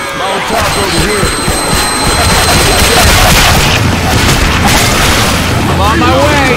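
A pipe bomb goes off in a zombie co-op shooter on the Red Tide map, a heavy boom amid continuous loud roaring game noise, with players shouting over the din.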